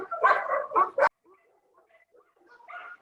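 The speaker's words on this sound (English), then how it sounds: "We can hear the dogs." Dogs bark at a pet spa and resort, several loud barks in quick succession up front, then fainter distant yips and whimpers in the background.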